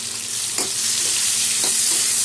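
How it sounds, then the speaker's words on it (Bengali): Chopped tomato hits onion frying in a pan, giving a constant bright sizzle with two distinct stirring scrapes, heard close and alone without speech. "পেঁয়াজ আমার ভাজা হয়ে গেছে, আর এখানে একটা টমেটো দিয়ে দিলাম কুচি করে"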